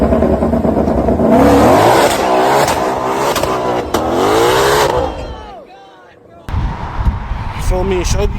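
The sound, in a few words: car revving engine doing a rolling burnout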